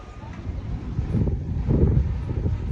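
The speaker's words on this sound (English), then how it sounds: "It's really breezy today, like breezy but cold breezy here in New York." Cold January wind in New York buffets the microphone with a steady low rumble that swells and fades, while a person talks over it.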